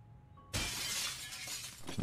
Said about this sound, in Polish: proszę rozbić szybę